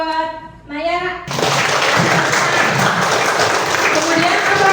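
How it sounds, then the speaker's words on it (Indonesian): A primary school classroom bursts into lively applause from a group of children, loud and sustained after a brief spoken prompt from a teacher. "Kasih tepuk tangan buat Naya."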